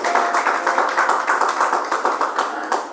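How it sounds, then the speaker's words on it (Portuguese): A church congregation claps together for Jesus at the close of a Sunday service, a steady rhythmic unison clapping at an even beat, close and fairly loud, with no talking. "Palmas para Jesus e o culto está encerrado"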